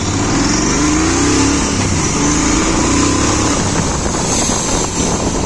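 A Royal Enfield GT 650 motorcycle with a 650cc engine accelerating hard in first gear, a loud, close, continuous engine roar rising in pitch with no talk over it.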